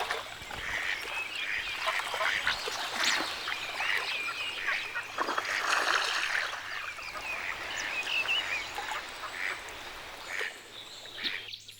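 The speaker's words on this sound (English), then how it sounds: "The mandarin ducks are courting." Mandarin ducks courting in a spring broad-leaved forest, giving a busy run of soft whistles, quacks and calls that overlap and repeat throughout, fairly close, with a steady natural background.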